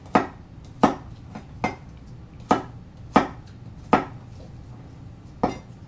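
A knife chops food into pieces on a board, with about eight sharp, separate cuts at an uneven, unhurried pace, close and distinct against a quiet background.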